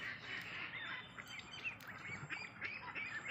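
Pak Nam ducks on a farm give off a cluster of faint, nasal quacks and squawks, several birds calling in short overlapping bursts at a moderate distance.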